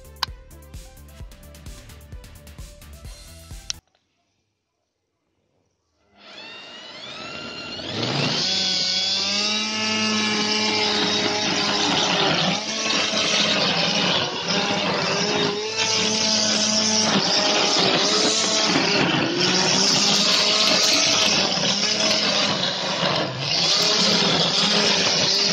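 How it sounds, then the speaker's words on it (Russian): A homemade electric lawn mower spins up after a brief pause and runs steadily while cutting grass, a loud sustained whirring hum with slight pitch wavers as the load changes. "теперь можно приступать к кошению травы"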